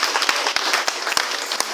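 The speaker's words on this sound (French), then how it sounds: "On applaudit encore pour eux." A church congregation applauds during a Sunday Advent Mass, a steady wash of many hands clapping with a few sharper individual claps standing out, close and fairly loud with no talking over it.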